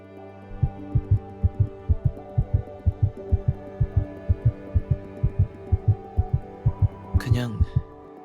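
Steady heartbeat sound effect in a story game, about twenty regular low thumps in a row, close and prominent over a soft hum, with a brief brighter burst near the end.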